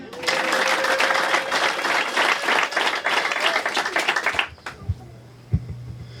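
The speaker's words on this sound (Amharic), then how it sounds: "አጨብጭቡ እስኪ።" A church congregation claps together in dense, steady applause for about four and a half seconds, then it breaks off abruptly, leaving a few scattered thumps and a low hum.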